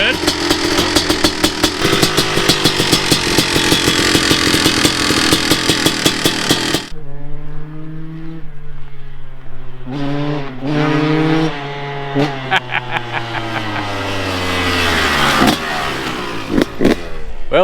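A Kawasaki KX 500 dirt bike with an aluminum-frame conversion starts after sitting three months with a new head, its two-stroke engine roaring loud and close, then idling and blipping through revs as people talk nearby.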